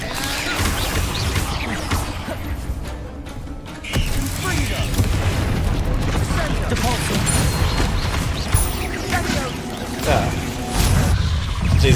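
Bombarda blasting spell in Hogwarts Legacy: repeated crashing impacts, clattering debris and rattling bursts continue for several seconds, loud and busy, with a sharp smash partway through and a voice speaking over parts of it.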